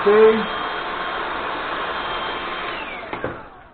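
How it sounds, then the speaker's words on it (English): A cordless Black & Decker Dustbuster vacuum sucking up cereal, a steady, loud, close motor whine and airflow roar with a few brief rattles near the end. "Let's give our Black & Decker Dustbuster cordless vacuum a little test here."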